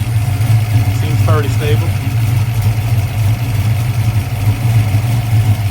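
A small engine idles steadily at roughly 900 RPM, a continuous low rumble sitting close and loud, with someone talking briefly over it.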